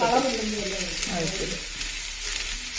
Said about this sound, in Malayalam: പച്ചമുളകും ഉള്ളിയും കൂടെ വഴറ്റി എടുക്കുകയാണ് ചെയ്യുന്നത്